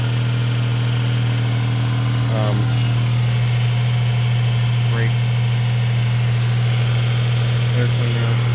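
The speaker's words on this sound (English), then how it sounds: "It's idling up since it's cold. There's your little inline 3." Cold 1999 Geo Metro three-cylinder engine idling high with a steady, loud drone and buzzy hum; someone speaks briefly over it.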